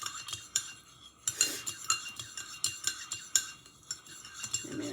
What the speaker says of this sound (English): Just want to stir it up.